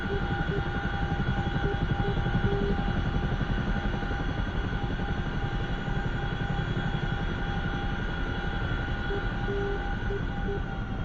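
A simulated CH-47 Chinook twin-rotor helicopter in the DCS flight game drones steadily with a dense, even engine and rotor hum, loud and unbroken for about eleven seconds.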